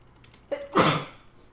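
A single close sneeze with a brief sharp intake before it, standing alone against a quiet room.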